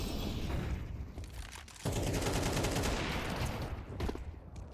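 Gunfire in a Counter-Strike match on the Ancient map: dense rapid shots and bursts crackle continuously at moderate level, with a louder stretch of firing in the second half, no talk.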